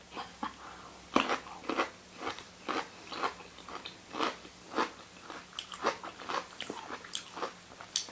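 Someone chews a crunchy Thai rice noodle salad with crab sticks, dill and red radish, close to the microphone. Steady, rhythmic crunches repeat about twice a second, with no talk.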